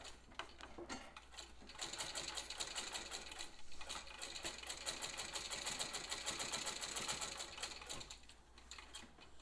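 A 1951 Singer 15K treadle sewing machine stitches steadily, its rapid mechanical clatter speeding and slowing with the treadle over several seconds, close-up and fairly quiet with no talking.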